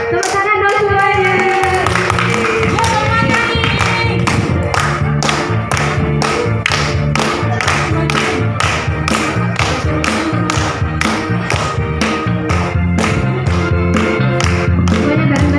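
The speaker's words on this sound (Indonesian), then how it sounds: "Tepuk tangan dong semuanya." Audience members at an anniversary celebration clap their hands together in a steady, loud, rhythmic beat that runs throughout alongside music, with crowd noise mixed in.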